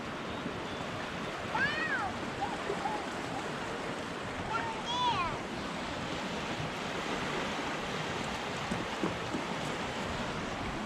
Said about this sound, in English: Look down there, see the water.